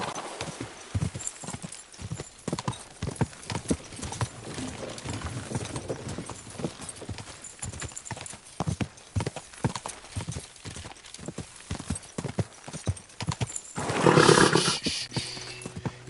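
A horse gallops with rapid, rhythmic hoofbeats in the video game Kingdom Come Deliverance 2, close and steady throughout, then lets out a loud, strained whinny near the end.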